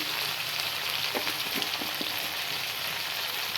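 Kashmiri chili powder sizzles in a hot pan as it is added, a steady soft frying hiss with a few faint stirring clicks. The sound stays fairly quiet and even throughout.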